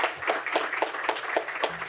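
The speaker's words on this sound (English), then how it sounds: "give her a round of applause." Scattered clapping from a conference audience at a disability support program event, a sparse, fairly quiet patter of individual claps at an uneven rhythm with no talk.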